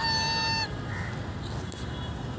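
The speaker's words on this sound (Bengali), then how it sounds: "চমৎকার রাজহাঁস।" Geese honk nearby, a loud, sustained nasal call at the opening that breaks off, followed by quieter honks and low outdoor rustling.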